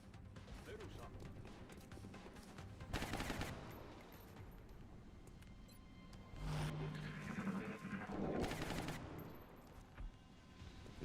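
Sustained bursts of rapid automatic suppressing fire in XCOM Long War, two long rattling volleys loud against a quieter game backdrop, with voices talking in between.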